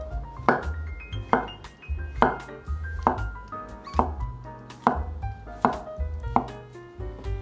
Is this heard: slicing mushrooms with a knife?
yes